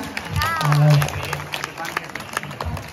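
Crowd applause at a National Youth Day parish gathering in India, dense clapping from many people with a short voice over it near the start, then continuing as a steady, fairly close patter.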